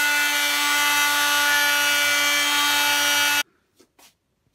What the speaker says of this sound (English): I've just sanded down the fin box, perfectly level.